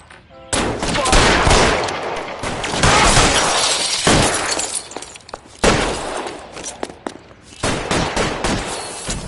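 Gunfire in the video game L.A. Noire, loud bursts of rapid shots and a fusillade with glassy crashes, coming in several intense waves separated by brief lulls, with no talking.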